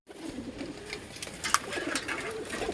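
Pigeons cooing softly at a coop while being fed wheat, a low steady murmur with a few brighter calls rising over a continuous background hiss.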